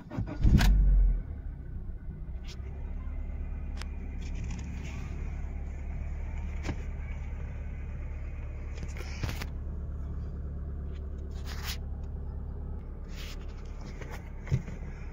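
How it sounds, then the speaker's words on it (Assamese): A 2014 Honda City petrol car with about 86,665 km on it: the engine catches in a short low burst, then settles into a quiet, steady idle hum with a few faint clicks and knocks. "ইঞ্জিনটো এবাৰ ষ্টাৰ্ট কৰি দেখাই দিছোঁ"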